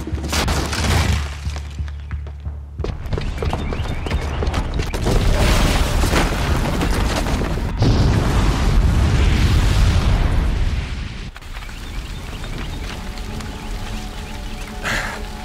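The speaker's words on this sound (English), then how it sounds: "the booby trap on the bomb downstairs is gonna get set off" A booby-trapped bomb goes off downstairs in a sustained, loud series of deep booms and shattering crashes, rumbling heavily for several seconds before easing into a lower roar.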